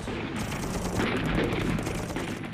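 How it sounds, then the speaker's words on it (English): Ferocious small arms fire in a combat zone during a Huey helicopter rescue landing, a dense, continuous crackle of rapid gunshots with heavy low rumble, loud and unbroken throughout with no speech. "Despite ferocious small arms fire, Novosel skillfully positioned his Huey for"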